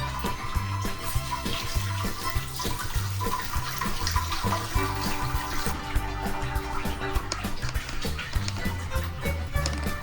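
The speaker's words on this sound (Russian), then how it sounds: "Залили промывочную воду" Sparge water poured by ladle during brewing of a raspberry sour beer, a continuous close splashing and trickling flow that carries on steadily with no talk.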